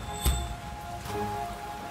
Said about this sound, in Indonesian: Kebetulan kan di luar masih hujan.